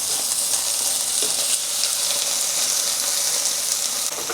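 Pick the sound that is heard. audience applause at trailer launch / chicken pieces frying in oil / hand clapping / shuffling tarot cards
chicken pieces frying in oil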